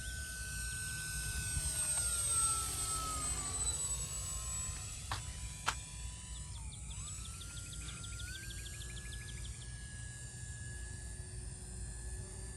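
A Cessna 182 engine drones steadily with shifting whining tones as the small plane comes in to land, a continuous moderate hum with no talk.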